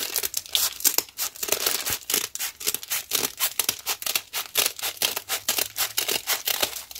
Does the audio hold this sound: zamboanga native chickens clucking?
no